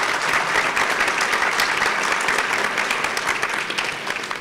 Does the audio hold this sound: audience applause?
yes